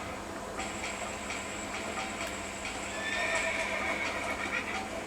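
A horse whinnies in Red Dead Redemption over a steady game background hum, with faint hoofbeats and a brighter, longer neigh rising near the end.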